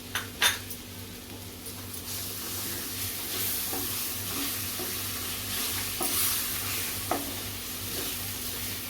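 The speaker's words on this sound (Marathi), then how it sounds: "आता नारळ आपण एक ते दोन मिनटं चांगला परतून घेतलेल्या आहे तुपावरती तर मँगो पल्प घालूया आपण याच्यातच" Mango pulp being stirred into grated coconut roasted in ghee, a soft sizzle under a low steady hum, with occasional spoon scrapes and clinks against the pan.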